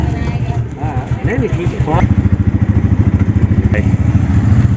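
A motorcycle sets off on a ride from Kolkata to Subhasgram, its engine chugging in a loud, close, steady rhythmic throb as riders talk over it.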